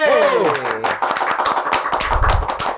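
An audience claps for a guest, Ferry Adrian Panke, at a futsal event, a burst of sharp, close handclaps following a brief spoken line, continuing in a quick uneven patter.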